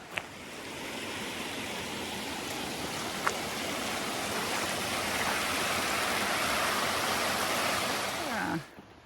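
A stream rushes and splashes in a steady, loud broadband wash as hikers cross it on foot, boots in the water, on a bushwalk toward Minyon Falls. The water runs constantly for about eight seconds and then cuts off abruptly.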